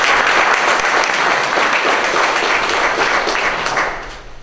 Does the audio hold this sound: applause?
yes